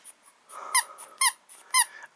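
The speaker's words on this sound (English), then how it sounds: "what the hell is that squeaky toy?" A squeaky plush otter toy from a Japanese snack subscription box squeaks three times in a steady rhythm, each bright, close squeak separated by soft rustling.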